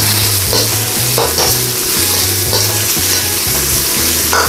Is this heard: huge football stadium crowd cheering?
no